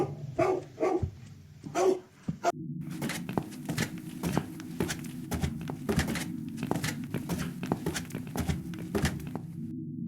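A dog barking in the video game The Cat Lady: loud, close, sharp barks, a few spaced at first, then a rapid, continuous run of yaps.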